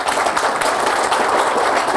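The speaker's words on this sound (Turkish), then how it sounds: "güçlü bir alkış istiyorum" Strong applause from attendees at an association's general assembly meeting, a dense, steady wash of many hands clapping close and loud for two seconds without any speech.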